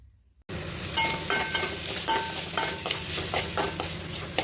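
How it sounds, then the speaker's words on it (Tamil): Urad dal, cumin, coriander seeds and dried chillies sizzle and rattle in a hot pan as they are stirred, the scraping strokes and crackle starting abruptly and continuing close and steady with occasional clinks of the utensil. "இப்போ இதெல்லாம் வறுத்துக்கிட்டு இது கூடவே இதையும் போட்டு நல்லா வதக்கி"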